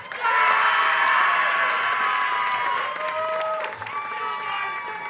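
A graduation commencement crowd bursts into loud, sustained applause mixed with cheering and shouts, filling the hall for several seconds before easing slightly near the end.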